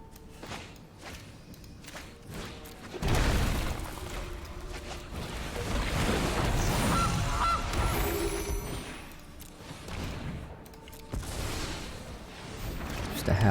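Goose honks from a Golgari sacrifice deck in the digital card game MTG Arena, several squawking calls over game music and thuds, moderately loud and repeated through the stretch.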